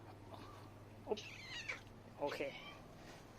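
A cat meows two short times close by while someone assembles a homemade caladium plant cabinet. A voice briefly speaks one word in the background.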